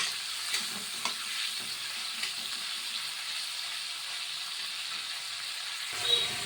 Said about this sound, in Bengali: ওদিকে চিংড়ি মাছটাও ভাজা হচ্ছে,